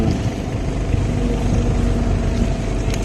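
A motorized bangka fishing boat engine drones steadily nearby, a loud continuous hum with no pauses.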